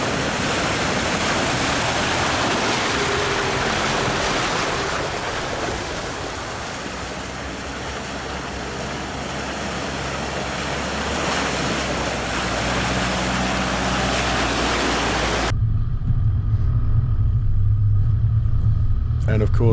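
A 4WD vehicle drives along a wet, muddy bush track on Yarrabulla Creek in winter, with a steady loud engine rumble and rushing splash of water, and the noise character changes abruptly near the end.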